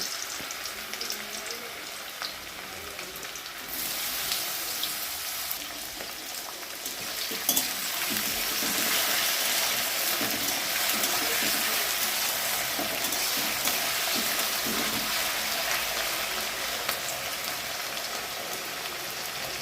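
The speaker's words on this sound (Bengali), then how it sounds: "তেলটা গরম হয়ে গেলে আলু হালকা করে ভেজে নেব।" Potatoes fry in hot oil in a kadai (wok) during home chowmein cooking, a steady crackling sizzle that swells louder after the first few seconds and keeps going without any talk.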